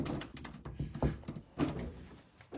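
A door closing and being locked, with several close thunks and clicks in quick succession as the door shuts and the lock is worked.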